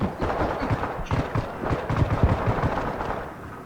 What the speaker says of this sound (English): Start getting shot at.